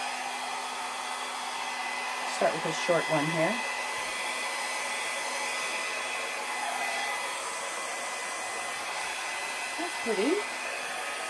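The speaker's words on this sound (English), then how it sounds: "my hair dryer set on low." A hair dryer on its low setting hums steadily and softly throughout, with someone briefly speaking over the constant airflow twice.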